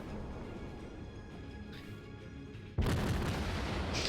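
Naval gunfire in the World of Warships video game, a low rumbling background followed by a sudden loud boom that carries into sustained roaring noise.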